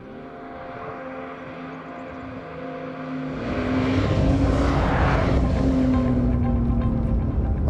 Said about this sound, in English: Okay, you can see and hear that we are on the road now.